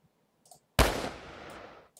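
A single sharp video game gunshot, dry and punchy, followed by a long fading tail, heard alone and close with near silence before it.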